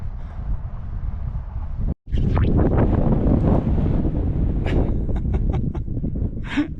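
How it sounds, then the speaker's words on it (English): Heavy, steady wind buffets a camera microphone outdoors on a long journey, a loud continuous rumbling roar with one brief dropout about two seconds in. "Switch the camera on, the wind blows."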